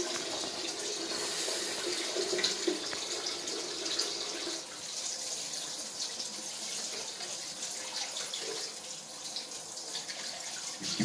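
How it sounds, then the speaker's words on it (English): Running tap water splashes steadily into a kitchen sink as hands are washed beneath it, a continuous close, even hiss with small shifts in the flow and no talking. "Maybe I should wash my hands first, people."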